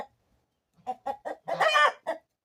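Several short chicken clucks in a quick sequence, then a louder, drawn-out squawk and one more cluck, fairly close with no talking.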